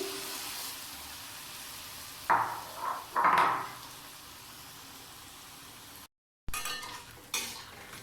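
Pointed gourd and potato chops frying in oil, with a slotted spoon scraping and lifting them from the pan, a few sharp metallic clinks and sizzle bursts over a quiet hiss, then a brief cut.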